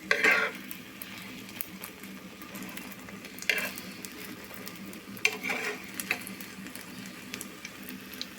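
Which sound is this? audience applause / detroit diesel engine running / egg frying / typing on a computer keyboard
egg frying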